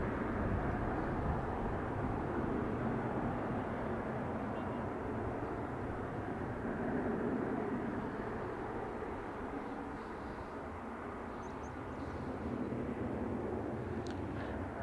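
An airliner rolls for takeoff on runway 28 right at Dublin Airport, a distant, faint, steady engine roar that swells and eases slightly.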